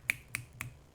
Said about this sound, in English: Don't you snap your fingers at me.